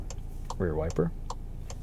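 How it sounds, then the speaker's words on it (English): Rear wiper ticking in a 2025 Volkswagen Taos on 19-inch wheels, with evenly spaced clicks about every 0.4 seconds over steady cabin road noise, and a short stretch of speech in the middle. "Rear wiper."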